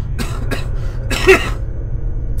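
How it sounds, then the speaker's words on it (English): A character in the Planescape: Torment video game breaks into a bout of coughing, three raspy coughs, two short ones and then a longer, harsher one, close and loud over a low steady hum. "the movement suddenly sends him into a bout of coughing"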